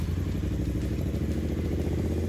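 A 1970s Triumph Bonneville T120 British twin motorcycle engine runs close by, a loud, steady, even thumping rumble with a mechanical clatter and no talk.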